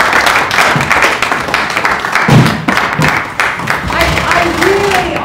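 An audience applauds a theatre panel with loud, close clapping that swells and thins, a voice or two briefly audible over it.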